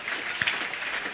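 An audience at a women's football awards night claps in a dense, even burst of applause that carries through the whole brief moment.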